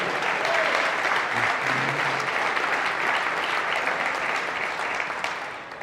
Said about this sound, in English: So I know you applauded